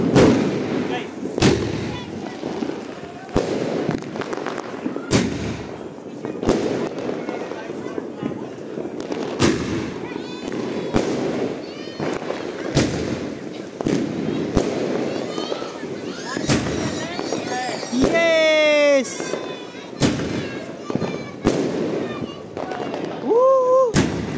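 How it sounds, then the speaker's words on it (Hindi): Sky shot fireworks go off during a Diwali celebration, a series of sharp bangs and whistling launches spread over the stretch while people talk and shout nearby. "अब आग लगाते हैं अपने स्काई शॉट्स में"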